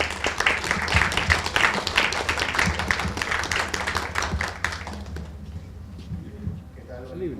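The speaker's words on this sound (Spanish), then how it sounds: "Un fuerte aplauso, por favor." An audience at a book-fair panel on illustration claps in a lively burst of applause that fades out after about five seconds, leaving quieter room sound with faint voices.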